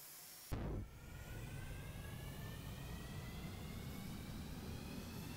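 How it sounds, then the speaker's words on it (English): Jet engines on a ship in Stormworks spool up to full throttle: a sudden loud burst, then a steady, dense roar with rising whine tones that holds unbroken to the end. "Start the engines and give it full throttle."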